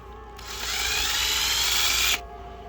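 A power drill bores a hole with a 1 inch bit into wood for a mask stand, one steady high whine lasting about two seconds, close and loud, starting and stopping abruptly.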